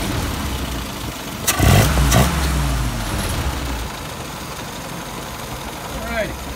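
A warm Yamaha YS637S engine restarts with a short burst of cranking and catching, then settles into a steady idle, close by with voices talking over it.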